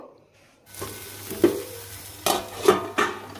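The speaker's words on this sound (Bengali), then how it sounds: "এদিকে শিম ভাজা হচ্ছে" Green beans frying in a home-kitchen pan, a low steady sizzle with a few sharp scraping stirs of a utensil against the pan, close and moderately loud, no talking.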